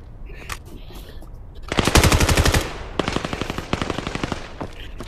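Automatic gunfire rattles in the VR shooter game Vail, a loud, close burst of rapid shots followed by a second, longer string of quick shots, with no talk over it.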